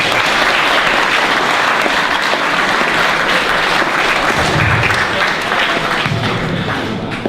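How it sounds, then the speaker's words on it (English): Steady, loud applause from an audience at a cyber competition awards presentation, sustained clapping filling the whole stretch without a break. "you owe them a round of applause right now"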